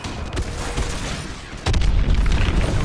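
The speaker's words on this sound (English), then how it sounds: "Lock onto those hard points and hit them with your missiles." Missile explosions and weapons fire in the Advanced Warfare video game during an attack on a hydroelectric dam, a dense rumbling barrage that swells into a heavier, louder blast partway through.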